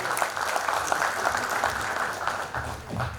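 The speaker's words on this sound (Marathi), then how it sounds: "तर जोरदार टाळ्या" Audience applause at a 1999-batch school reunion silver jubilee, a steady, dense patter of many hands clapping together for the full stretch at moderate level, with faint voices mixed in.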